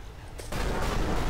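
Gunfire from the blocky, Minecraft-style shooter Block Action RPG breaks in after a brief quieter moment and becomes a dense, loud, continuous burst of shots.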